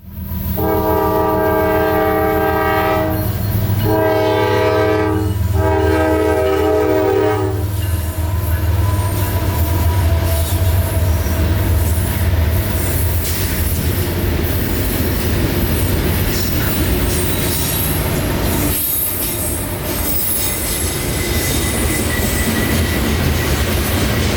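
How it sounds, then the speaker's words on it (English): A loud Canadian National freight train led by five locomotives rumbles past at night in Central Florida, heavy engine drone and a multi-tone horn blowing in a few long blasts near the start, then steady wheel and rail noise. "5 Canadian National locomotives in trail headed north tonight."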